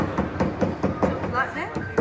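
A wooden hammer pounds slices of papyrus stalk in quick, evenly spaced dull thuds, about five blows a second, close by with a voice faintly underneath.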